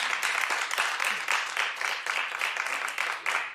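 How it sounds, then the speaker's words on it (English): Studio audience clapping in a talk-show setting, a dense, steady wash of applause running throughout with no voices on top. "clap like you mean it"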